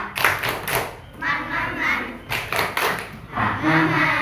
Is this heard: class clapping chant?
yes